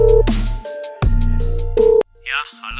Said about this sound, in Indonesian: Oke, gue akan telepon Bang Rio